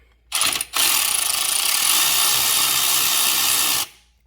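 A power tool spins off the 10mm nut on the alternator of a 2006 Toyota Corolla XRS, a short burst followed by a steady, loud, close whir of about three seconds before it cuts out.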